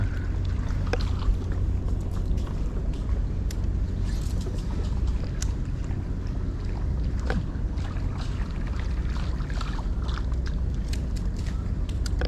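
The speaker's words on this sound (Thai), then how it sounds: "เรือใหญ่มาก" A large boat passes on the Chao Phraya River in Bangkok, a steady, loud engine rumble and churning water that hold evenly across the stretch, with wind noise and no talking.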